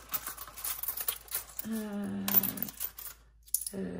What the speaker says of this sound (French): Il y a trop de monnaie là. Trop de monnaie.